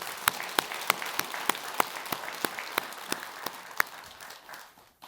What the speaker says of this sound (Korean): 수고했다고 하는 큰 박수 한번 부탁합니다.